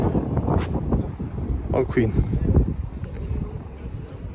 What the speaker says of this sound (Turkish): Bir tık rüzgar var.